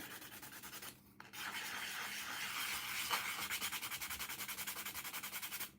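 Small sander worked across a plastic model part, a close, steady abrasive rubbing that pauses briefly near the start, then resumes with a quick rhythmic back-and-forth scrubbing pulse.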